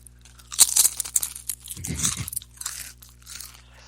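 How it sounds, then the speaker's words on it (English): Close, crisp crunching of potato chips being bitten and chewed, several loud bursts over a few seconds with no talk. "I'm eating some potato chips right here, so if you hear a couple of crunches,"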